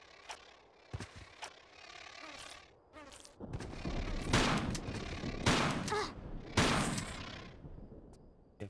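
Shotgun blasts in Tomb Raider 4, several loud, close booming shots at irregular intervals over game ambience.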